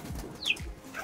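Pigeons kept by breeders coo softly in low, rolling notes, with a brief chirp and a quick flutter of wings nearby, all in a short, quiet burst.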